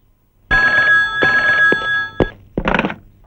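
A new cell phone rings with a loud electronic tone lasting about two seconds, followed by a few short knocks and a brief burst of noise.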